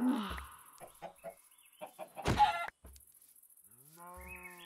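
Chickens in the video game Minecraft cluck in short, clipped bursts, with a louder squawking flurry midway and game sound effects between the calls. Nobody speaks.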